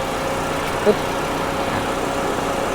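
A 2019 Toyota Yaris Ativ 1.2 engine idles smoothly with the air conditioning running, a steady close hum broken only by one brief click.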